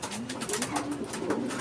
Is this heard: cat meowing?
no